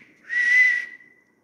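A truck whistle sound effect, one sustained, steady, fairly loud tone lasting about half a second, with a soft fading tail and no talking.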